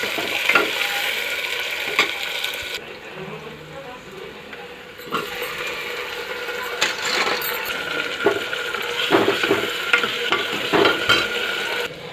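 Cumin seeds dropped into hot oil for dal, sizzling and crackling up close with scattered sharp pops and stirring clatter across the stretch, a steady frying hiss underneath.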